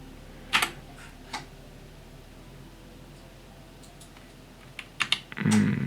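Computer keys clack while a command line is typed in the Betaflight configurator, a few isolated presses spread across a quiet stretch with a brief cluster of louder taps near the end.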